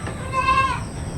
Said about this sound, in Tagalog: Tapos yung iba naming mga kambing na inahin.